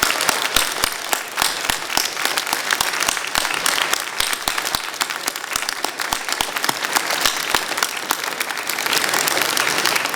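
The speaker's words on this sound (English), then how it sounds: "Let's give them a huge round of applause." Sustained, dense applause from a large audience at a university arts and sciences convocation ceremony, steady clapping filling the hall for ten seconds without pause and swelling slightly toward the end.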